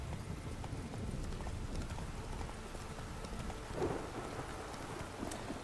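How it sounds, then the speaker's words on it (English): Rain and rumbling thunder fill a stormy outdoor scene in The Witcher 3 game, with steady hoofbeats of a trotting horse running underneath the continuous downpour. "Always has some crazy wind and storms."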